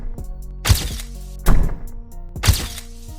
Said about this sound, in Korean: TV에서 전기가 튀는 소리에 맞춰 계속해서 머리를 박았습니다